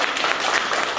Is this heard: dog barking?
no